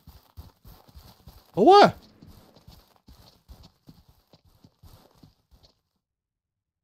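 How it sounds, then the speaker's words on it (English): Horse hooves clip-clop in a steady walking rhythm in the Ranch Simulator video game, with a loud, sharp whinny breaking in near the start and a player talking quietly over it. "What's that horse doing?"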